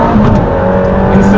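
An Aston Martin Valhalla accelerating at full throttle on a track lap, a loud sustained engine roar that holds a steady tone close up throughout.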